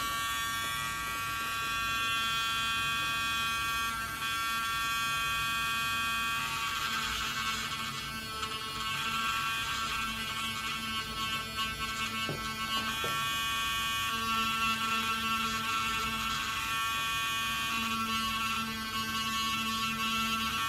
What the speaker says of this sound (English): So I will cut back when I've finished all of my Dremel working.